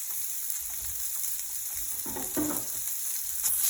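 Onions hit a hot oiled pan alongside mushrooms for a roasted garlic Alfredo, giving a steady close sizzle with light crackles and a brief stir, with no voices.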